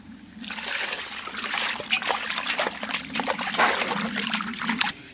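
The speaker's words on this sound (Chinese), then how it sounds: "再把冬瓜一洗一下哈" Water trickles and splashes steadily from a running tap while a winter melon is washed under it, close and continuous with small splatters.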